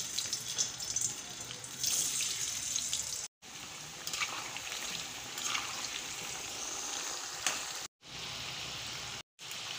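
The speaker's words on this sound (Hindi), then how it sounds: "अब मैं इसमें आलू डाल देती हूँ।" Potato pieces frying in hot oil in a home kitchen pan for a dry bottle gourd and potato dish, a continuous close hiss and crackle of bubbling oil with brief breaks.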